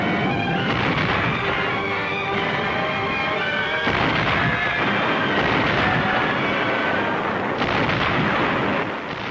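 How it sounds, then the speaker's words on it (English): 155mm howitzer artillery fire during the battle of Iwo Jima, repeated deep booming blasts with rolling rumble between them, dense and continuous over a noisy old film soundtrack. "the Corps artillery had landed its 155mm howitzers"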